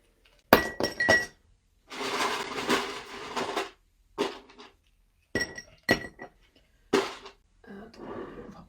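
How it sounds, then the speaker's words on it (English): Ice cubes dropped into a cocktail shaker at a cruise sailaway cocktail demonstration, several separate bursts of clattering, clinking cubes against metal and glass, close and fairly loud, with short quiet gaps between scoops. "So ice into your shaker."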